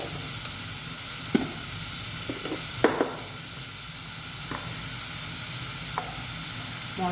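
Tomato and turmeric sizzling in a pan with a constant soft frying hiss, broken by occasional clinks and scrapes of a stirring utensil. No one speaks.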